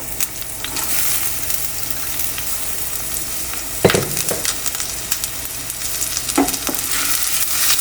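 Onions fry in mustard oil over medium heat, a steady close sizzle punctuated by a few sharp scraping stirs of the spatula against the pan, no talking.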